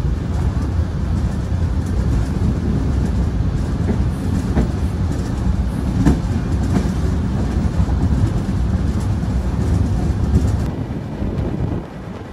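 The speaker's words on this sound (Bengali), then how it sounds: "ট্রেন কিন্তু হর্ন দেওয়ার সাথে সাথে ছেড়ে দিয়েছে" The Ruposhi Bangla Express intercity train rolls along with a loud, continuous rumble and rattle of its carriages, faint rhythmic clacks over the rails, and wind buffeting close to the listener, easing slightly at the very end.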